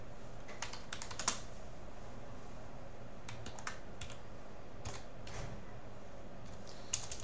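Typing on a computer keyboard while setting up a fresh Ubuntu system, with scattered key taps in small bursts and pauses, fairly quiet over a steady background hiss.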